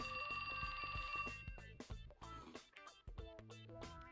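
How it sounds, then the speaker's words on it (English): A cell phone rings in a video game, a bright repeating electronic ringtone melody playing alone at low volume. "That's my phone."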